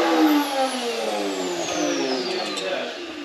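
A supercharged car engine revs hard under a stomped throttle, a loud sustained roar with rising and falling pitch sweeps, the supercharger whine audible over steady mechanical racket, with voices faintly in the background.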